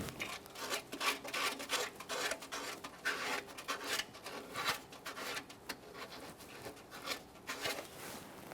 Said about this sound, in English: I'm using some fine sandpaper.